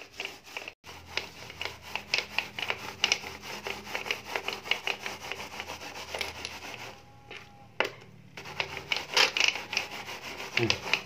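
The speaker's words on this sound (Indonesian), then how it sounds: "Lalu tambahkan lagi air campur Mama Lemon. Kita gosok lagi" Old coin scrubbed with water and Mama Lemon dish soap, a steady close-up rubbing and scratching with repeated strokes, a brief pause midway, no talking.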